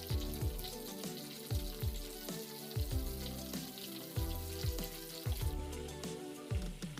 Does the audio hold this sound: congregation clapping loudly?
no